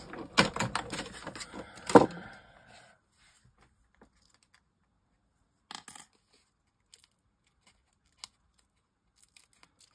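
Scissors snip and crunch through double-sided tape in a quick cluster of sharp cuts at the start, then only a few faint isolated clicks in near silence.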